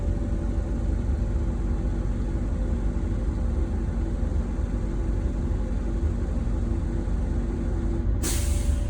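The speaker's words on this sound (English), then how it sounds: "Alright, my air tanks have cut out again." A bus air brake system running with the engine idling steadily throughout, then a sudden sharp burst of hissing air near the end as the air tanks cut out.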